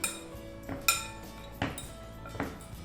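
Chicken lollipop marinade with lemon juice, red chili powder and salt being mixed in a bowl, heard as a few sharp clinks and knocks of a utensil against the dish at irregular intervals.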